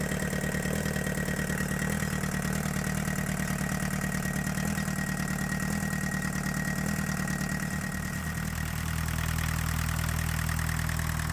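A 1984 Volkswagen Jetta diesel idling rough with one dead cylinder that only fires now and then, a steady low mechanical rumble with an uneven, lumpy beat, close and continuous.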